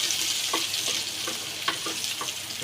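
Chopped ginger sizzles in hot oil in a pan, a steady crackling fry with a few soft bursts and stirring clicks, close and alone.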